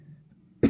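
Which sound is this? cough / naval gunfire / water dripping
cough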